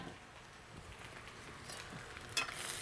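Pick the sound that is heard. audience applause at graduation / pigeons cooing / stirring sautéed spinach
stirring sautéed spinach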